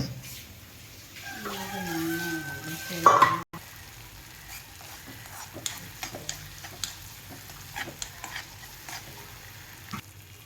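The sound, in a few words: frying chopped green chilies with garlic and ginger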